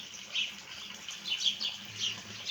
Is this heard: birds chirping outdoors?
yes